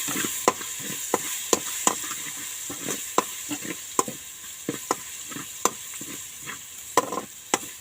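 Pork is stir-fried with garlic and pepper in a pan for Thai tom jap chai. A spatula makes sharp, regular clacks against the pan over a soft, continuous background sizzle.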